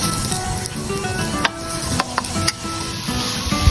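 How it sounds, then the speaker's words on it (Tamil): Julienned watermelon rind sautés in melted ghee in a pan: a continuous close sizzle runs throughout, broken by several sharp clicks of a spoon stirring against the pan. "கீ மெல்ட் ஆனோடனே நம்ம ஜூலியன்ஸ் பண்ணி வச்ச வாட்டர்மெலன் ஸ்கின் ஆட் பண்ணுறோம்."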